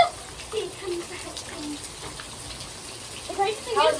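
Rain falls outside on a day when it is sunny nearby, a steady soft patter with a few louder splashes and drips toward the end.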